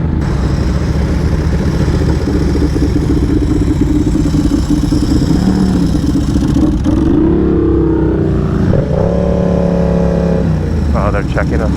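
A 2024 Yamaha R7 motorcycle engine drones loudly and continuously on the Laguna Seca track, its pitch rising and shifting through gear changes. The wind-buffeted roar stays close, with a voice faintly audible beneath it.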